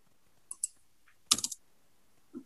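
Mouse clicks and computer keyboard keys sound during copying and pasting, with a few sharp separate clicks followed by a quick cluster of key taps and one last soft tap, close and crisp in a quiet room.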